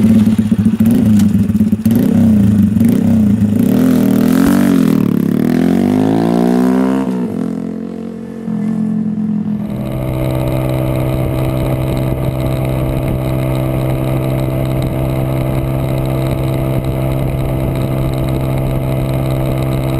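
A Honda Grom motorcycle fitted with ceramic wheel bearings accelerating, its small engine revving loudly with rising pitch, a sharp cut and lull, then a steady loud drone as it cruises on.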